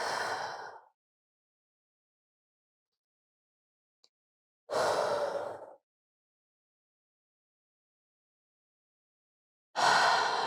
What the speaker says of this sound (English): And breathe.